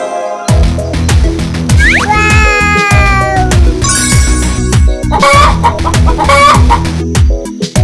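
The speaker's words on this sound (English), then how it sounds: "I'm a hen that says cluck, cluck, cluck" Clucking and squawking hen calls ring out over a bouncy musical backing in a children's song, loud and close, with a few rising chirps.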